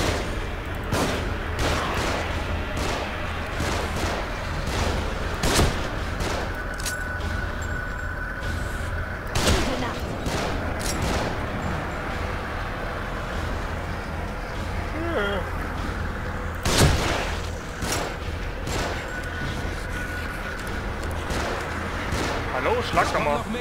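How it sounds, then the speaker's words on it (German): Gunfire rains down from above in The Evil Within on Nightmare difficulty, a steady stream of sharp shots and impacts over a rumbling backdrop while someone talks. "Deckung, sie schießen von oben."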